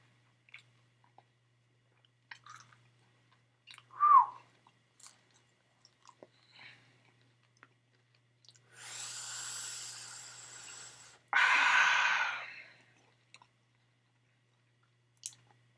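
Someone chewing a flaming hot nacho bacon cheeseburger close to the mic: quiet scattered clicks and soft bites, then two longer bursts of crunchy, wet chewing, with no talk.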